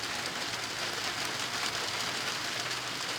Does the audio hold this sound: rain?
yes